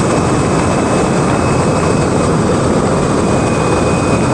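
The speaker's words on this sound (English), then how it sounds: "You can hear the bike just, it loves it. It's the freeway. It loves high speeds." A 2023 Ducati Diavel V4 motorcycle cruising at high speed on a freeway gives a constant loud engine drone mixed with heavy wind roar, steady throughout.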